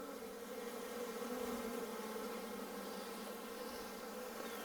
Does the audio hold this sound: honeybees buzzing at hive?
yes